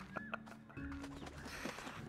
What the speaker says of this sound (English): Oh, baby chicken just got shot across the map.